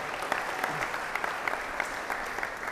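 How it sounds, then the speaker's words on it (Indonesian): A school audience claps steadily for the head of Bapas Banda Aceh at an anti-bullying event at Jeumala Amal, sustained moderate applause with distinct claps throughout. "Beri tepuk tangan yang meriah untuk Bapak Kabapas"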